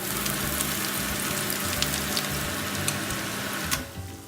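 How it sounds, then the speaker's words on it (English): Chopped onion frying in a pan for chicken biryani, giving a steady close sizzle with faint scraping stirs throughout and no voices. "we're gonna fry this onion right now into the pan."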